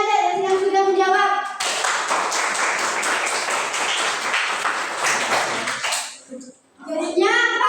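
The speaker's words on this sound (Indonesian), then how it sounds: "Beri aplaus buat temannya deh yang sudah menjawab." A classroom of students claps for a classmate, a dense, close burst of applause lasting several seconds, with a voice speaking just before and after.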